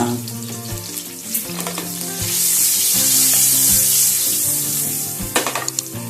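Green chillies and turmeric crackle and sizzle in hot oil in a pan, a steady loud hiss with sharp pops and stirring clatter throughout, no talking.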